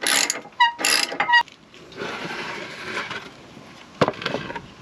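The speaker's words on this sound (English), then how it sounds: "So I'm going to crank up the jack a little bit." A car jack under a Promaster van is cranked up with a ratchet, giving a few sharp, close bursts of clicking and mechanical rattling, then quieter scraping and a final knock.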